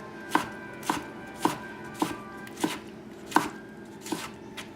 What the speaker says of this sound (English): if you can cut a tomato without squashing it